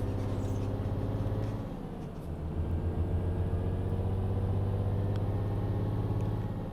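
A truck engine in Euro Truck Simulator 2 drones steadily after a missed downshift, its low hum dipping briefly and then settling into a higher, constant rumble, loud and close with no talk.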